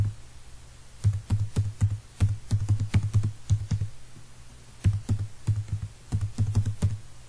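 Someone types code on a computer keyboard, a close run of crisp key taps in uneven bursts with a short pause midway.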